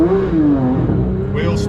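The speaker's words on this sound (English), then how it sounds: "In terms of a launch, could I launch this?" A Porsche 911 GT3 992 revs hard at launch, its engine note climbing then dipping, under talk from a man in the car.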